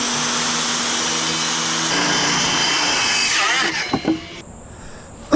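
A power saw runs through a long cut in plywood for a Chevy Silverado truck bed frame. A loud, steady roar shifts in tone partway through, then winds down into a few knocks and a clatter.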